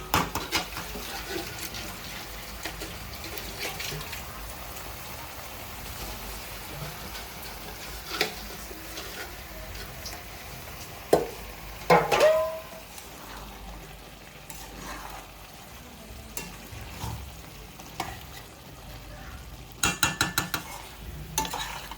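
Goat liver frying in a pan with salt and turmeric, a low continuous sizzle broken by intermittent scraping and clattering stirs, with a few sharper bursts of metal-on-pan stirring near the end, close up and with no talking.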